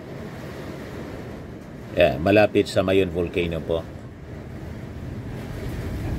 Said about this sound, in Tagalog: Yan ang lakas ng hangin, hampas ng Bagyong Juan dito po sa amin.